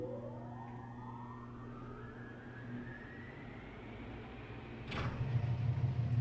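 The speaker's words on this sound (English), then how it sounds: "Let's just fully prime it, shall we? The loud whirring." Loud mechanical whirring from a machine being primed in the game Obduction: a steady hum whose pitch climbs gradually, then swells into a louder, denser roar near the end.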